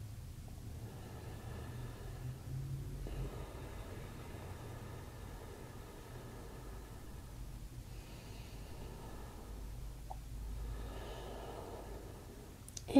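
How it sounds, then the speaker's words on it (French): Slow, deep breathing during an evening yoga practice before sleep, with soft, faint inhales and exhales repeating in a calm rhythm over quiet room noise. "Encore 2 respirations."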